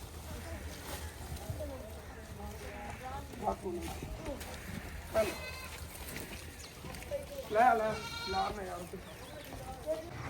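Goats bleat repeatedly in a village farm setting, several distinct nasal calls rising over a constant background hum, with one louder cluster of bleats partway through.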